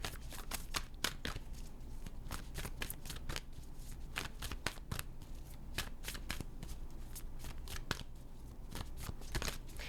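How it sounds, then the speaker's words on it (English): A Nature's Whispers oracle card deck is shuffled by hand during a tarot reading, giving a steady run of rapid, crisp card riffles and flicks close to the listener, with no talking. "I'm shuffling the Nature's Whispers deck for Virgo."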